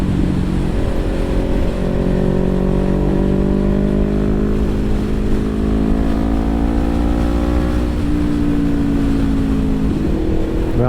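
A 2017 Honda CBR500R motorcycle carries its rider through a run of bends, its engine drone loud and steady the whole time. The pitch rises and falls gently with throttle, and wind roar sits underneath.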